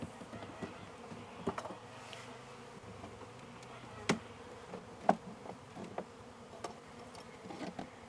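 Quiet honey bee buzzing hums steadily in the background at an open hive, punctuated by scattered soft knocks and clicks close by.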